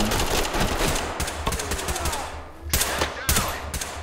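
Loud bursts of rapid gunfire in the video game Ready or Not, several volleys separated by brief pauses, over a rumbling, noisy background.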